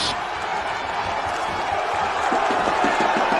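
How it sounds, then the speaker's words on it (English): A football crowd at Tomset Stadium roars after a Melbourne Knights goal in a Victorian NPL match, a loud continuous wash of cheering and shouting with rhythmic clapping or chanting rising toward the end. "And the crowd erupts here at Tomset Stadium."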